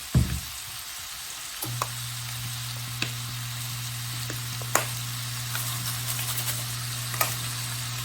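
Ground meat browns in a pan with minced onions, giving a steady crackling sizzle over a constant low hum, with occasional clicks and spatula taps.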